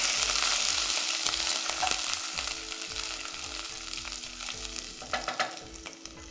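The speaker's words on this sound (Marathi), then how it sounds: "यामध्ये घालायचं आहे किसलेलं आलं हिंग आणि याला परतून घेऊ" Grated ginger and asafoetida sauté in hot ghee with mustard and cumin seeds, a continuous close sizzle broken by a regular rhythm of stirring scrapes in the pan, with no talking.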